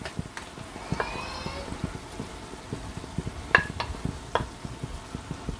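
Bacon matchsticks sizzling in a hot pan as they go in for a tagliatelle with celery cream, peppers and parmesan, a soft steady frying hiss broken by occasional sharp clicks and scraping stirs.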